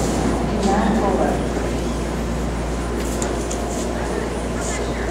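A ten-car Pittsburg/Bay Point BART train rumbles into the underground Embarcadero station with a steady low roar and faint squeals, and voices murmur in the background.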